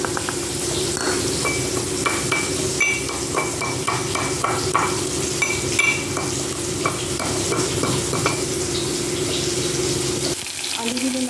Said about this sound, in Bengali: আলুগুলো লাল লাল করে ভাজা হয়ে গেছে, এবার আলুগুলোকে আমি তুলে রাখবো।